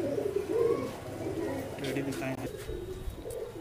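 Border-type pigeons cooing repeatedly at close range, soft throaty burbling calls in a steady cluster, with a voice talking over them in places.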